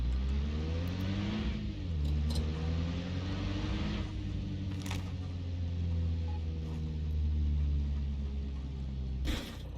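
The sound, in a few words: GAZ vehicle engine driving in video game Arma Reforger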